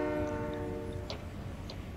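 In a video game, a train horn sounds as a steady, faint layered tone for about a second before fading into low rumbling background noise, with a couple of brief high clicks.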